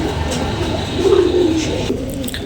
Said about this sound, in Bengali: চুপ্পা মোজাওয়ালা রাজশাহী সবজি কবুতর।